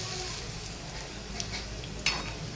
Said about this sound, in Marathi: कढीपत्ता टाकून घेऊया.